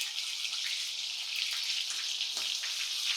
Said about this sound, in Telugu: స్టవ్ని లో ఫ్లేమ్లో పెట్టుకొని ఫ్రై చేసుకోవాలి.